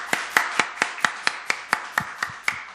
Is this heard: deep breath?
no